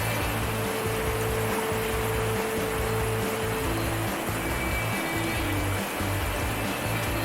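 Shallow creek water flowing on a summer fishing trip, a steady close rushing and burbling that continues without pause, with a faint hum underneath.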